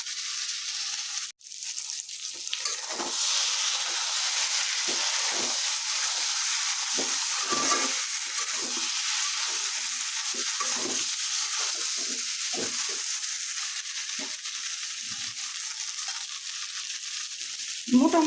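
Meat and potato curry simmering in a pan after water is added, a continuous soft bubbling hiss with scattered utensil scrapes and taps, close and alone without talk.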